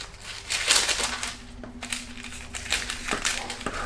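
Baking paper is cut and creased to line a square cake pan, with crisp crinkling rustles and a few sharp snips in short bursts, close and moderately loud, without talk.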